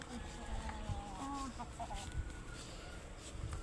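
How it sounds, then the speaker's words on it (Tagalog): Several chickens cluck and murmur nearby, short throaty calls scattered over a low outdoor background. "papakita ko sa inyo yung mga manok namin"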